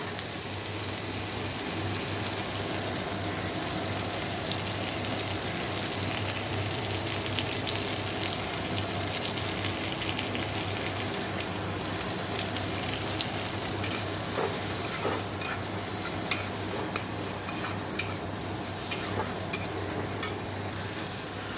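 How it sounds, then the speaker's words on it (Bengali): Chopped onion, tomato, garlic and chilli fry in mustard oil with a loud, continuous sizzle and a constant crackle, and occasional stirring scrapes toward the end. "পেঁয়াজ টমেটো রসুন লঙ্কা কুচিয়ে দিলাম দিয়ে দিলাম এবার ভালো করে কষিয়ে নিয়ে জল দিয়ে দেবো"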